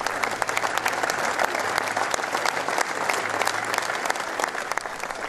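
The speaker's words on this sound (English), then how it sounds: "The cortege passed the stadium with those lining the streets applauding the man who worked for the club for more than 30 years." Rangers supporters lining the streets outside Ibrox stadium in Glasgow applaud as the funeral cortege of the club's longtime kitman passes, a broad sustained outdoor clapping from a large crowd heard at a distance, steady and unbroken.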